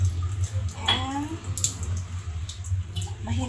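A weak stream of water runs from a kitchen tap in the morning, a thin trickle with light splashing and clinks of dishes, while a person talks nearby.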